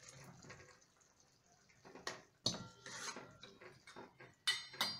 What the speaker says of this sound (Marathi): आता या शेंगा पण घालू आपण याच्यात पाण्यासकट.